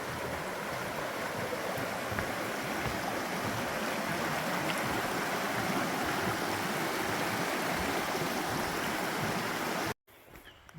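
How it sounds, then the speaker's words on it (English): A mountain stream rushes beside a forested hiking trail in the foothills near Caesars Head, a loud, continuous watery roar that cuts off abruptly near the end. "we are starting out along the stream"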